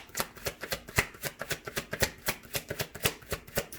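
Tarot cards being shuffled by hand, a quick run of crisp riffling slaps and flicks in a steady, slightly uneven rhythm, close and clear with no talking.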